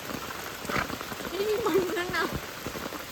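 Steady rain patters on surfaces nearby, a dense continuous hiss of drops while a voice talks over it.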